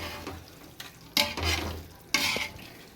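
Beef curry pieces frying and being stirred in a pot, short scraping stirs with soft sizzling underneath, two sharper clanks of the spoon against the metal.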